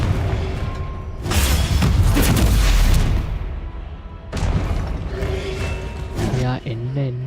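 A Confringo blast spell fires in Hogwarts Legacy with a loud, heavy booming explosion lasting a couple of seconds, then a second rumbling burst follows amid game effects.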